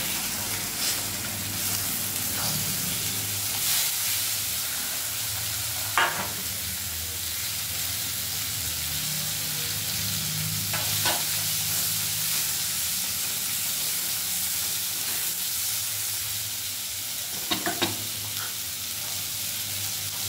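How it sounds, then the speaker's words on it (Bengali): Raw tomato purée sizzles steadily in a hot pan with asafoetida, a continuous frying hiss broken by occasional stirring scrapes. "কাঁচা টমেটো ভাজা হতে হতে মা দিয়ে দিচ্ছে"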